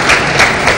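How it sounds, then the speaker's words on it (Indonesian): Sustained crowd applause from an audience at a televised school quiz competition, a steady dense wash of clapping with slight swells. "Tepuk tangan semuanya."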